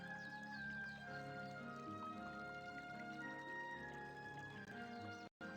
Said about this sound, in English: You can hear the sound of a babbling brook.